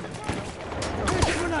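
Gunfire aimed at a fence in Battlefield 1, a quick cluster of loud shots over dense battle noise, with a voice talking over it.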